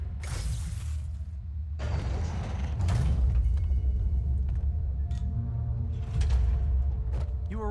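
A heavy trap door being opened in the video game Marvel's Spider-Man, with a loud grinding, rumbling mechanism that scrapes and shifts in long waves with clanks, no talking.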